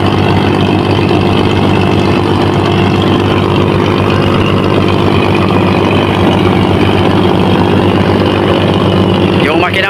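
Twin Isuzu three-cylinder double engines on a fishing boat at sea run in a loud, steady, close drone with a low throbbing rumble and no break.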